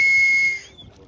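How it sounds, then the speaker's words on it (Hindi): A life jacket safety whistle gives one short, shrill, steady blast that lasts under a second, loud and close, before cutting off into faint outdoor ambience. "जैकेट में ना सीटी भी मिलती है, ताकि कहीं आप डूब रहे हो तो इसे बजा लो, दूर तक आवाज आ जाए"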